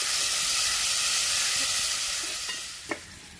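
Tomatoes hit a pan of frying onions, green chillies and garlic with a steady, close sizzle and hiss that fades slightly toward the end, with a brief clink of a utensil near the close.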